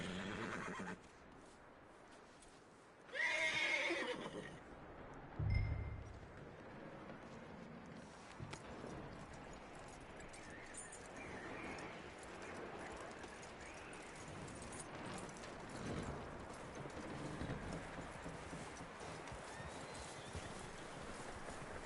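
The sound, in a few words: horse neighing and hooves clip-clopping in video game Red Dead Redemption 2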